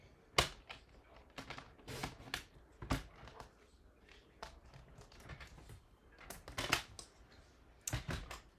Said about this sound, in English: you can bring your trimmer in, and I'm just going to trim this to be